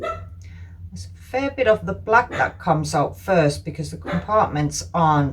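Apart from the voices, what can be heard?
dog barking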